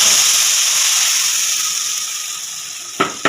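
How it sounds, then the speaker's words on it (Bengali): A paste of green chili, tomato, garlic, melon seeds, cashews and raisins sizzles loudly in hot oil for a fish curry, a steady frying hiss that slowly fades, then two sharp clinks near the end. "সেই তেলটার মধ্যে আমি কাঁচা লঙ্কা, টমেটো, 3 কোয়া রসুন, চালমগজ আর কাজু কিশমিশটার পেস্টটা একসাথে দিয়ে দিচ্ছি।"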